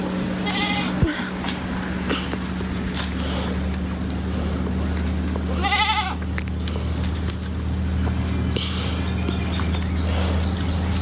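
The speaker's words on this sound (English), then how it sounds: "Do goats really like poison ivy? They do. Look at them. They love it." Goats feed on poison ivy outdoors and let out several wavering bleats, some near and some farther off, over a constant low hum, with no talking.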